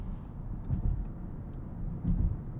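A 2022 Audi RS6 Avant wagon in auto drive mode with an 8-speed automatic and Quattro all-wheel drive, heard as a steady low engine and road rumble from inside the cabin that swells gently a couple of times.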